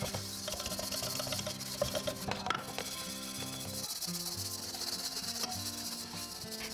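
Steady scrubbing of a brand-new lightweight cast iron Chinese wok with a steel scrubber and warm water to strip its protective coating, a continuous rasping rub running under background music.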